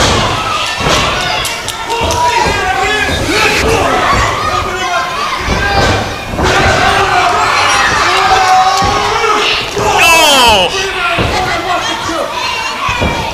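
Wrestling crowd at a PCW Limelight event cheering and shouting steadily, with thuds and slams from the ring cutting through the roar and a commentator talking over it throughout.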